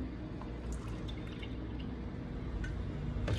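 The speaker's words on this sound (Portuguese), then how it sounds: "Agora a gente vai colocar leite." Lactose-free milk is poured into corn cake batter, giving a faint, steady liquid stream with soft drips and small splashes, quiet and without talk.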